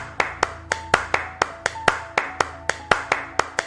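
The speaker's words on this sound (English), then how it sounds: "Start applauding me till I tell you to stop." One person claps in a steady, even rhythm, about fourteen crisp, close hand claps over a few seconds, with no talking.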